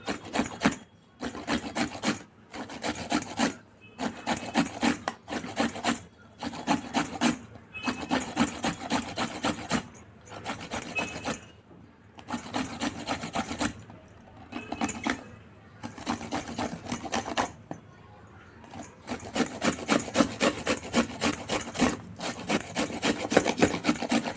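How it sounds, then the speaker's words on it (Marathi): Amla (Indian gooseberries) are grated by hand for chutney. Short bursts of rasping strokes repeat in a steady rhythm with brief pauses between them, close and fairly loud, with no talking. "चटणीसाठी 2 आवळे घेतले, हे किसून घेते मी."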